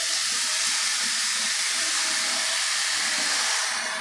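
Grated raw green mango sizzles as it sautés in ghee in a pan for a sweet mango preserve, a steady close hiss of frying with no talking.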